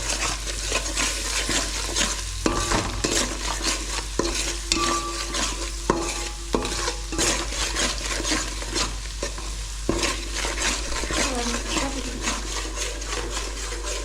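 Mutton is stirred with goda masala in a hot pan, with a steady close sizzle of frying and repeated scraping knocks of the spoon against the pan throughout.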